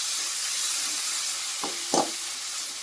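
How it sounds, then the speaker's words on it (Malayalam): Crushed garlic, shallots, a chopped medium onion and curry leaves sauté in hot oil for a Kerala-style tender jackfruit thoran, giving a steady close sizzle broken by two quick stirring scrapes. "ചതച്ചെടുത്ത വെളുത്തുള്ളിയും ചുവന്നുള്ളിയും ചെറുതായി ചോപ്പ് ചെയ്ത മീഡിയം സവാള കറിവേപ്പിലയും ചേർത്ത് നല്ലപോലെ"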